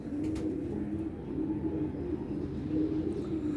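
Pigeons coo steadily in a low, continuous murmur, several birds close by with no talk over them.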